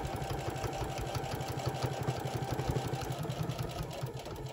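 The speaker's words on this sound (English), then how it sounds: "I'm going to sew straight down the side" A sewing machine runs steadily, stitching a straight seam down the side of a faux leather zipper pouch, with a close, continuous rapid mechanical whirr and clatter throughout and no talk.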